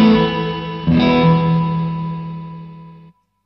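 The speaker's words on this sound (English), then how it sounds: "So reverb on one side." A guitar through a reverb pedal, reverb on one side: a sustained note rings with a lush reverb wash, a second chord swells in under a second, and the tail decays slowly before cutting off.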